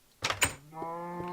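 A door in a video game opens or closes with two quick knocking thuds, followed by a steady, tonal hum that holds to the end.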